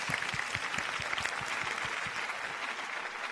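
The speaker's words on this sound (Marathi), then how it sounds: "एकदा लक्ष्मीकांत बेर्डे यांच्यासाठी जोरदार टाळ्या झाल्या पाहिजे" Sustained applause from a studio audience on a Marathi television music competition show, dense clapping continuing steadily throughout without speech.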